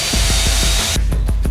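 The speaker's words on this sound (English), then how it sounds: "Now the last sanding with an 120 grit sandpaper." Close, steady abrasive rasping with quick rhythmic strokes of 120-grit sandpaper worked back and forth over a surface while building a catamaran, no voices.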